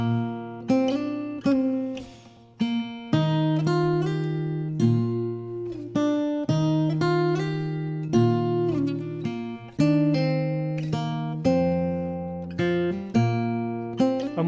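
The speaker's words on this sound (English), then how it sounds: "I did a solo guitar version of it, which sounds like this." Solo acoustic guitar plays a campfire drinking song, strummed chords and picked melody in a steady lilting rhythm, close and clear with no voices.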